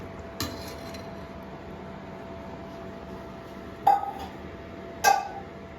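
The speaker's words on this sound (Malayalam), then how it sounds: "ഇട്ട ശേഷം നന്നായിട്ടൊന്ന് ഇളക്കി കൊടുക്കണം." A spoon stirs mushroom green peas masala in a pan, giving a few sparse metallic clinks against a steady low hum.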